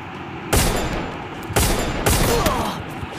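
A single-shot gun fires in Free Fire Max: three loud separate blasts spaced about a second apart, each a sharp crack with a ringing tail over steady background game noise.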